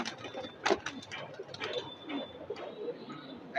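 Several pigeons in a Bangladeshi pigeon collection coo softly and continuously at moderate distance, with low murmuring calls overlapping and faint bird noise throughout.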